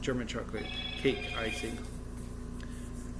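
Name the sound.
mobile phone ringing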